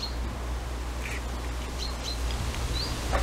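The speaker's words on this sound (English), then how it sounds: "Quite a bit of bird song in the background" Birds chirp and call in short, scattered bursts along the bank of the River Len in Kent, somewhat distant, over a steady low outdoor rumble of wind or flowing water.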